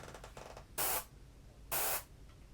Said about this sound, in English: all I'm doing there is adjusting the force of the airbrush